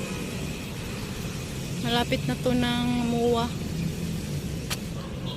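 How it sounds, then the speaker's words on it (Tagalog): Road traffic rumbles past along the Manila Baywalk near the CCP Complex, a low steady wash of vehicles with a brief louder engine swell in the middle while someone talks over it. "Yan, doon yung mga sasakyan."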